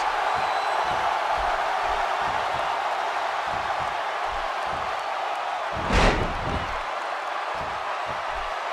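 Arena crowd noise from a WWE 2K16 wrestling match, a steady roar of cheering from a large audience throughout, with a short loud thud or slam near the end.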